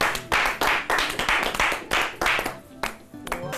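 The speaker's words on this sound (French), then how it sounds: "On les applaudit très fort," Loud, rhythmic hand clapping close by for a female trio, in a few sharp bursts with short gaps, with a voice or music faintly in between.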